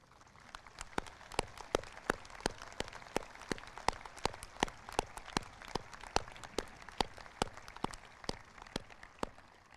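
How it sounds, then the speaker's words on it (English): Rhythmic, evenly spaced claps at a 2022 high school graduation ceremony, a faint, distant and sparse round of applause for the teachers with no talk over it. "let's give them a round of applause."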